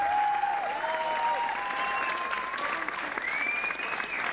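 An audience at a Saint Joseph School Class of 2019 graduation ceremony gives warm, sustained applause, a dense steady clatter of many hands filling the hall for several seconds, with faint tonal sounds drifting above it.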